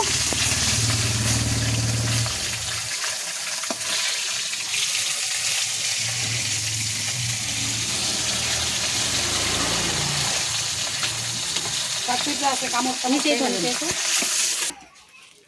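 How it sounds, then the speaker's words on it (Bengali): Fish pieces frying one by one in hot oil, a loud continuous sizzle and crackle with a low hum at first, running steadily before cutting off abruptly at the end. "একে একে সব মাছগুলো ভেজে নেব।"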